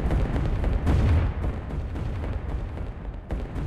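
Video game artillery fire in Rise of Nations, dense overlapping booms and rumbling blasts in a continuous barrage, loud and low.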